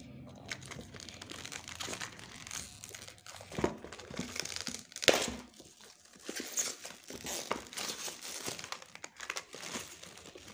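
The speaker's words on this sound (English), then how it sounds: "Now let me open the clear packaging of it." Clear plastic packaging around a stationery kit being opened, with close, irregular crinkling and crackling bursts and a few sharper tearing snaps, heard alone and fairly near.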